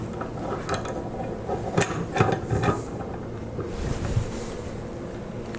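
Clamp being tightened down on a Tosa Tool modular angle plate, a workpiece stack set against locating pins, giving a few close mechanical ratcheting clicks and metallic turns over low background noise.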